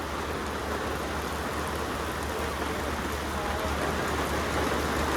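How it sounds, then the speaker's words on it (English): Continuous rain pours down in a dense, even hiss that stays steady throughout, with no talking. "but it's raining."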